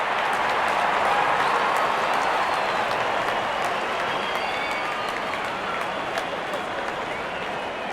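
A cricket crowd in a Real Cricket 24 India vs Afghanistan match applauds a boundary four with sustained, dense clapping and cheering that holds steady and eases slightly over several seconds.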